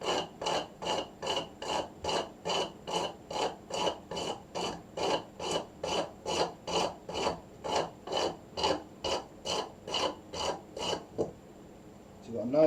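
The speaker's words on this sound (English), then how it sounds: "So you need to take a bit of sandpaper. I use mine on a block most of the time and just take the edges off" Sandpaper wrapped on a block rubbed back and forth over the foam edges of a LARP-safe sword core, a steady rasping rhythm of about two dozen close, even strokes that stop near the end.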